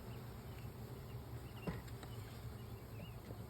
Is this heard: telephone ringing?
no